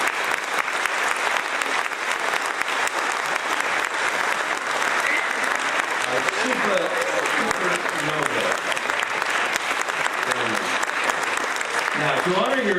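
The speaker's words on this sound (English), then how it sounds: "Please give this group a round of applause." A crowd gives a group a round of applause at an event, producing sustained, loud clapping throughout, with voices talking over it in the later part.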